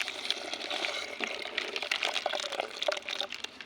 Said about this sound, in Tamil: பிஸ்கட் அரைச்சாச்சு, இப்போ நம்ம பால் ஊற்றிக்கலாம்.